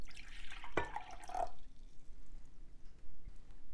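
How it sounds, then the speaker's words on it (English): Distilled water poured into a bottle while making DIY foaming hand wash, a short splashing pour that stops after about a second, followed by quiet with a faint drip. "We're gonna start by adding our distilled water."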